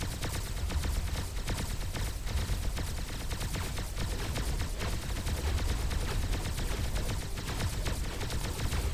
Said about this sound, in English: This kid has a lot of turrets hitting him.